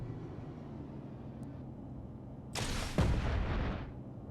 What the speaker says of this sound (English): We'll try the missile launchers now.